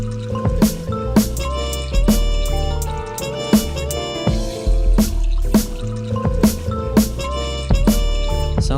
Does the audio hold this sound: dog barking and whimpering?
no